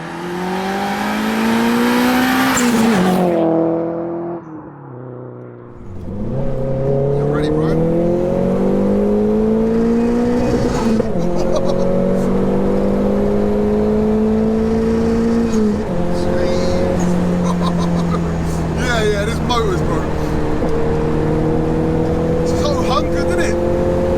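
A 340 bhp Nissan Pulsar GTI-R engine revs hard and loud, climbing through the gears in rising sweeps with a brief lift between shifts, close and dominant, with people talking over it.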